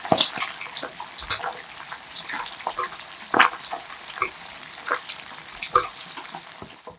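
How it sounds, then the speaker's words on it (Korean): Shrimp and seomcho spinach fry in a pan and are flipped to brown on both sides. A steady, close crackling sizzle is punctuated by irregular clicks and clatters of stirring. "새우도 넣고 앞뒤로 뒤집어주며 골고루 색깔을 내주고"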